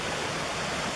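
Creek water rushing near an old bridge site in an abandoned gold mine village, a dense steady wash of flowing water, close and continuous with no voices.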